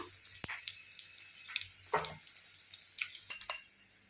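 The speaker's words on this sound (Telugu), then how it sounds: "మీరు కూడా తప్పకుండా చట్నీ చేసినప్పుడు వెల్లుల్లి తాలింపు వేసుకోండి" Garlic tempering sizzles in hot oil for a chutney, a steady close crackle broken by sharp popping bursts and stirring clinks, with no voices.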